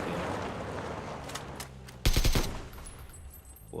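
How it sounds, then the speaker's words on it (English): A burst of suppressed automatic fire from a silenced AK rifle in the PUBG battle royale game, one short rapid volley of muffled shots over a noisy game background. "the sound of the silenced AK"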